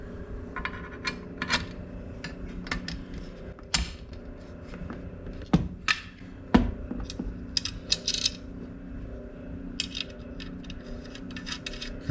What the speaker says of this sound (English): let's tighten these up